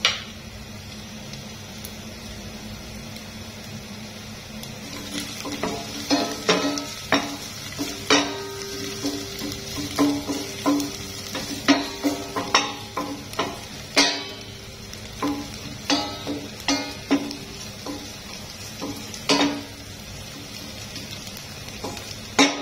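Garlic and star anise frying in a pan, a soft continuous sizzle punctuated by frequent scraping and clinking stirs of a utensil against the pan, close and moderately loud.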